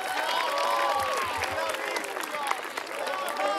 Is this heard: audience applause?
yes